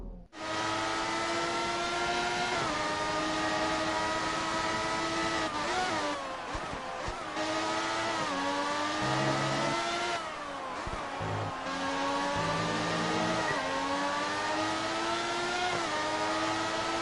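Engine of a 1991 McLaren MP4/6 Formula 1 car in F1 2018 at Austria, screaming continuously at high revs with steady gear-change steps up and down through the lap, loud and close throughout.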